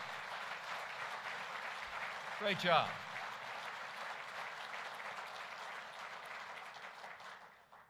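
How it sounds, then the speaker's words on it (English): An audience at a manufacturers' board gathering applauds with sustained, even clapping that fills the room, while a voice briefly speaks over it partway through before the applause slowly fades. "Let's give her a big round of applause."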